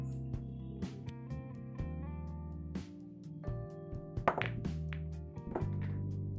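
Cue strikes and clacking balls in an 8 Ball Pool game, a series of sharp, quiet knocks scattered over soft game music.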